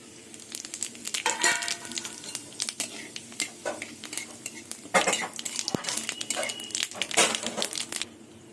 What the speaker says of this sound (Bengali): এই তেলের মধ্যে এবার জিরে তেজপাতা আর একটা শুকনো লঙ্কা ফোড়ন দিয়ে দেবো